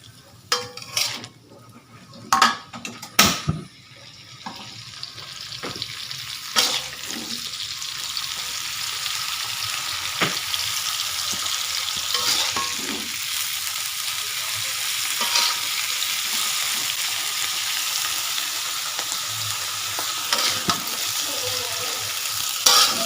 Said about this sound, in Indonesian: Kita aduk-aduk sambil dibumbui.